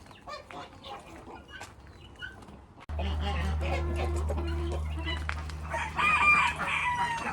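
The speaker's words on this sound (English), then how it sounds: "This is our chickens enclosure." Chickens cluck in a farm enclosure while a rooster crows loudly close by, with other fowl calling around them; quieter scattered bird sounds come first, then a sudden cut to a busier, louder stretch with a steady low hum underneath.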